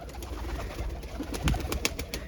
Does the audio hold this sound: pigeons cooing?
yes